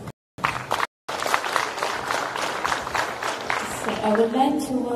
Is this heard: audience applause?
yes